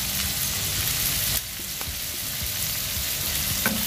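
Ginger-garlic paste and turmeric sizzle steadily in a hot pan while being stirred for chilli paneer, a dense continuous frying hiss with a brief drop partway through and faint scraping ticks, no voices.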